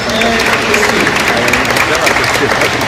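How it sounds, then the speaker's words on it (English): Audience applause at a live animal show starring a cat and her trainer, a steady dense patter of clapping from a crowd that runs without a break and stays loud throughout. "How about a nice round of applause for the cat and Chrissy"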